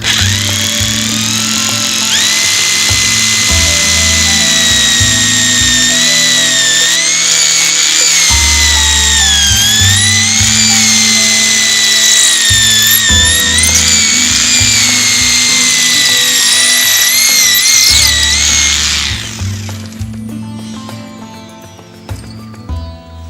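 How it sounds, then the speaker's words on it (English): A power drill bores straight through into stone substrate for a drive pin, a loud sustained whine with shifting pitch lasting about twenty seconds before cutting out, leaving quieter tool noise. "drill straight through into our substrate"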